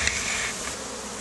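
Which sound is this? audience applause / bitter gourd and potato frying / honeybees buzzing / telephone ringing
honeybees buzzing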